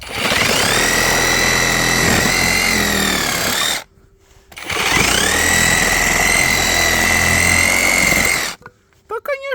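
A handheld saw cuts through a wooden pallet in two loud, sustained bursts of high-pitched whining and grinding, each a few seconds long, with a short gap between them and a brief voice at the end.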